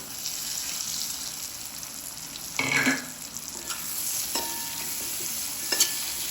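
Washed valor beans tumble into a hot frying pan and get stirred, giving a steady sizzle broken by a few sharp scraping clatters from the spoon. No one speaks.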